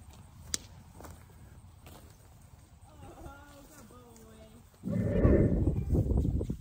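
A horse paws at the ground, with a few dull hoof scrapes and thuds close by, then louder rustling at the end, while people speak over and around it.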